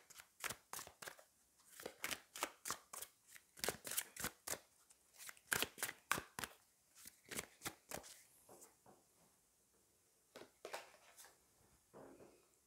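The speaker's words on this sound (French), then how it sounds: "on va aller prendre l'autre carte" Tarot cards being handled and shuffled from the deck in a quiet room, a rapid series of crisp riffling snaps and flicks in bursts, pausing briefly before a few more near, close-up card sounds.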